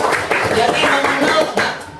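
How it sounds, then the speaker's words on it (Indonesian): Classroom clapping for a student after a Quran recitation lesson, a short burst of several hands patting together nearby, fairly loud and brief. "Ya, tepuk tangan buat Sakila, terima kasih."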